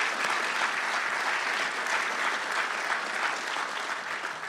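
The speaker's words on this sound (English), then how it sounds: "Please give a round of applause to Coach Charles" Audience applause at a Marshall University press conference for Coach Charles Huff, a broad, even sheet of clapping from a sizeable crowd that stays steady and slowly tapers near the end, with no speech over it.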